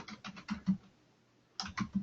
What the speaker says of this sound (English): I'm just typing up a note here.